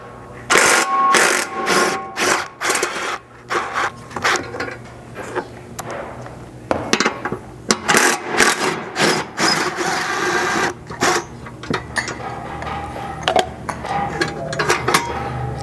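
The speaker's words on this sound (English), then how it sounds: "you'll reach kind of straight back in here with your 13 and an extension to remove that bolt" Ratchet fitted with a 13 mm socket and extension backs out a bolt on a Chevy Colorado skid plate mount, giving repeated rapid clicking bursts that start and stop, close and fairly loud, with faint sounds of the work in between.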